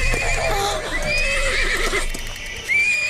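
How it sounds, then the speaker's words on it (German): A pony in an animated series neighs in a long, loud whinny with shaky rising and falling pitch, alongside faint clip-clop hooves and background music. "Bring dein Pony zur Vernunft, Jacare."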